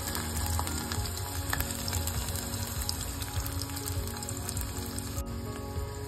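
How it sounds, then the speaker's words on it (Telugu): Sliced onions and green chillies fry in oil for okra stew (bendakaya pulusu), sending up a close, continuous crackling sizzle with faint clicks of a utensil against the pan. "ఉల్లిపాయలు అయితే వేగుతున్నాము"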